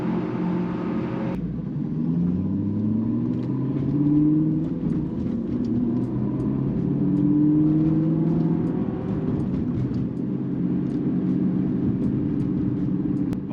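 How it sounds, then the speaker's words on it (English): An Aston Martin's aftermarket exhaust rumbles together with a motorcycle engine at steady, loud volume, the tones rising and falling as revs change, with no speech over it. "You guys are probably picking up the Aston Martin's exhaust"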